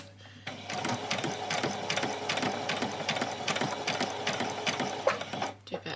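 A domestic sewing machine runs steadily through a back stitch on a doll's dress, its rapid needle ticking and mechanical whir continuous and close for several seconds before stopping.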